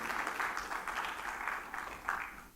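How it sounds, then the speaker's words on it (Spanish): A church congregation clapping for the Lord during an afternoon service, a faint, steady wash of many hands applauding together at a distance. "Si lo cree, dale palmas al Señor en esta tarde"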